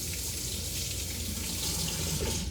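Tap water runs steadily into a sink while bell peppers are rinsed, a constant close splashing hiss with no talk.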